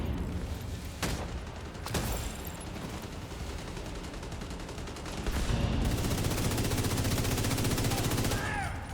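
Video game gunfire: sharp close shots at first, then a sustained rapid burst of automatic fire that grows louder and denser, with speech in the background.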